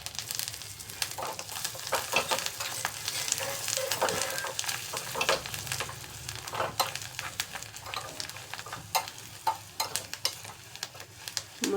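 Asafoetida and coriander tempering sizzling and crackling in hot oil for a Marathi raw-mango dal, with a spoon stirring through it; a steady close frying hiss with frequent sharp pops and no talk.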